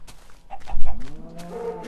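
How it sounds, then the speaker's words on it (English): A cow in the Minecraft video game moos in a loud, close, drawn-out low call with a rising pitch, preceded by brief short game sounds. "Okay, cow."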